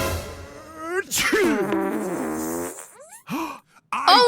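A loud, exaggerated sneeze with a breathy wind-up and explosive burst, then a couple of short vocal yelps afterward.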